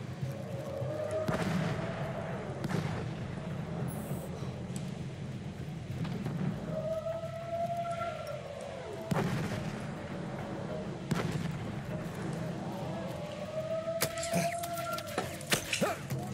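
Battlefield 1 gunfire sounds as scattered sharp cracks and heavy booms over a rumbling battlefield, fairly faint, with occasional rising engine whines and a voice in the background.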